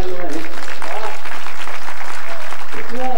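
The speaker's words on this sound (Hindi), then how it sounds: "एक बार जोरदार तालियां बजाएंगे" Enthusiastic audience applause at a Hindi kavi sammelan poetry gathering during a festival in Jhansi, loud continuous clapping from a large crowd throughout, with faint voices mixed in.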